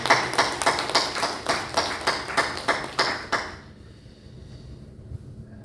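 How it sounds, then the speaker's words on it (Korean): A church congregation gives a round of applause during a Sunday worship service, about a dozen rhythmic clapping bursts that stop abruptly, leaving quiet room tone. "감사의 박수를 올려드리겠습니다"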